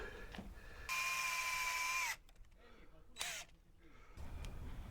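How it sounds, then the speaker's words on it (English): A power drill whirs in one steady burst lasting about a second aboard a sailboat, then stops, followed by a few faint clicks and a short second whir. "drill through from both sides so they meet in the middle"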